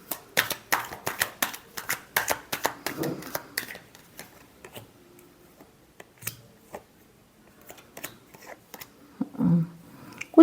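Tarot cards are shuffled by hand in a rapid run of crisp riffling snaps, close and dry, then slowing to scattered taps and a few soft handling sounds.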